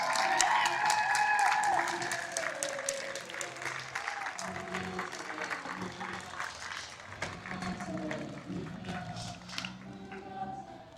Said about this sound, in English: we want to honor you, give you a round of applause.